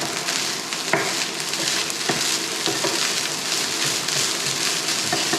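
Eggs sizzle loudly in a hot pan for egg fried rice, broken up with a spatula; a steady dense crackle runs throughout with occasional scraping clicks, no talking.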